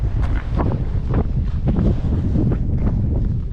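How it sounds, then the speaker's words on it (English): Strong wind at Molino Basin buffets the microphone with loud, gusty low rumbling and rustle that rises and falls throughout. No talking is heard. "Well, the wind is loud"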